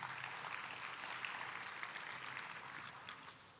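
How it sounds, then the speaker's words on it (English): Quiet, continuous applause from a conference plenary audience, fairly distant and even in level from start to finish. "let's just give them one round of applause"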